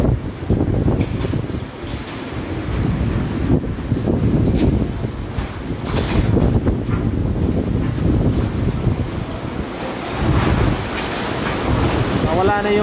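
Strong typhoon wind from Super Typhoon Rolly (Goni) roars steadily through Naga City, loud and close with gusting surges and buffeting against the microphone, no voices over it.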